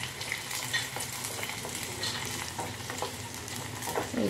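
Ingredients for Kanika Bhog fry in a pan with steady sizzling and scraping stirring strokes, close and continuous, with no talk.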